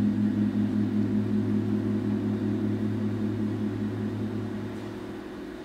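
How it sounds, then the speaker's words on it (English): Steady low didgeridoo drone, a continuous buzzing hum that holds unbroken throughout and fades slightly toward the end, with no other sounds. "This is the sound of a didgeridoo."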